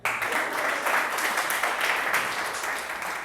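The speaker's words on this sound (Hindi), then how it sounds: "बहुत बहुत शुक्रिया, आप लोगों ने ताली बजाई।" A stand-up comedy audience applauding, a dense, loud, sustained wash of many hands clapping together throughout.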